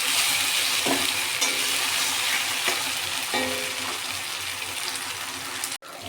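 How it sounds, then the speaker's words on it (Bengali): Ground spice paste for a fish curry fries in hot oil with a loud, continuous, close sizzle, broken by a few soft scrapes of a spoon stirring the pan. "আবারও এটাকে ভালো করে ভেজে নেব।"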